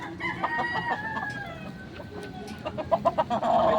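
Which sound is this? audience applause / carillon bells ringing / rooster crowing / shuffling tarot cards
rooster crowing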